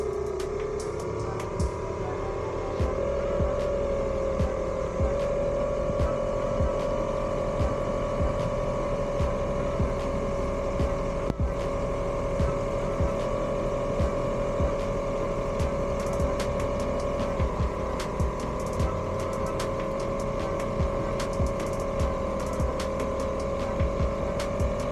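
A Hangkai 48V electric outboard motor runs on 72V, pushing the boat along with a steady whine and a constant wash of water and wind noise that holds for the whole stretch without talk.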